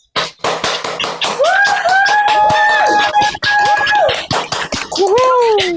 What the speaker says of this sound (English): Let's give her a huge, huge, huge welcome and cheering round of applause.